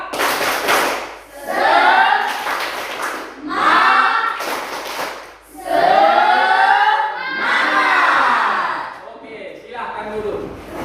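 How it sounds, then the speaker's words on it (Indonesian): An Indonesian classroom of students performing a rhythmic spirit clap, bursts of group clapping alternating with chanted voices in repeated waves. "Buat dulu tepuk semangatnya."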